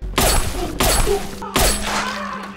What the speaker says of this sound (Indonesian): Liu Kang langsung melesatkan tembakan.